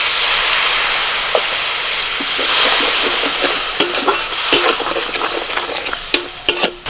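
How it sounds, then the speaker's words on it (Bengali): Masala with red chilli powder and chopped tomato sizzles in a pan as a little water is added, giving a steady steamy hiss broken by sharp stirring clicks and scrapes that grow busier toward the end. "একটু নাড়াচাড়া করে নিয়ে দিচ্ছি টমেটো কুচি সামান্য একটু জল দিচ্ছি"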